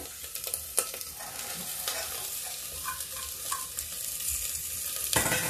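Onion, cabbage and peas fry in a pan with a steady sizzle, while a spoon stirs and scrapes in uneven strokes, the frying swelling louder near the end.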